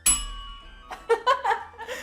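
A small hand bell rung in a quiz game gives one bright ding at the start, followed by a short pause and then quick voices and light laughter close by.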